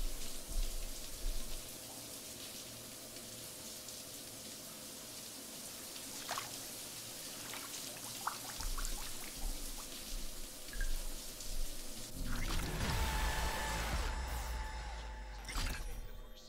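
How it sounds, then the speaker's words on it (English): Shower water running in Cyberpunk 2077, a quiet continuous spray with scattered drips and splashes, growing busier and louder toward the end. "Oh, we're in the shower."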